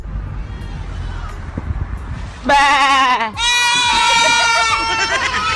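A man sitting in a car imitates a bleating goat, letting out two long, loud, wavering bleats back to back after a few seconds of low background rumble.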